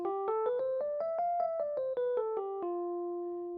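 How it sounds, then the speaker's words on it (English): An F Lydian scale on a looping setup, played as a rising and falling run of clean plucked tones with a bright, bell-like timbre, each note ringing briefly before the final tone sustains and fades; close and solo, no talking. "So F Lydian would sound like this."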